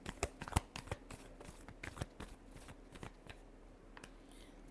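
Tarot cards being shuffled by hand in a series of crisp riffling snaps and taps, close and quiet, irregular bursts tapering off toward the end with no talking.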